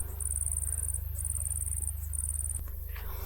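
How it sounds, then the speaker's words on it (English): Steady high-pitched insect chirping, likely crickets, on a summer evening in Corfu, pulsing in long trains broken by brief gaps over a low constant hum, with no one talking. "All the insects are starting."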